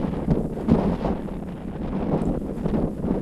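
Strong outdoor wind buffets a microphone, producing a continuous loud, rumbling roar with gusty swells and no speech.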